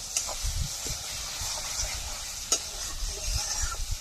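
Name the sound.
stirring and frying mashed taro paste in a pan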